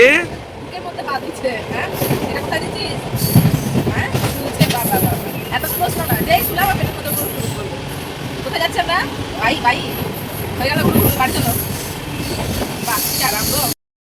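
Passenger train running with a steady rolling rumble and rattle throughout, occasional squeals and clacks, and voices chattering in the carriage over the continuous noise.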